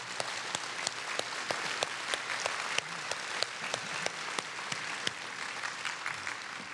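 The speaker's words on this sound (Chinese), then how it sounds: "我们用最热的掌声感谢惠树仁总统。" An audience at a Taiwanese business association's opening ceremony applauds the president with steady, moderately loud clapping in a large hall, with sharper individual claps standing out from the crowd.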